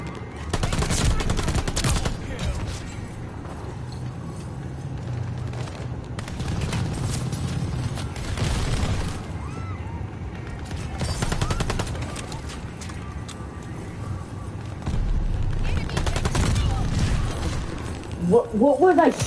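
MP-40 submachine gun fire in Call of Duty: Vanguard comes in repeated bursts of rapid automatic shots, some close and loud, with quieter stretches between and game noise underneath.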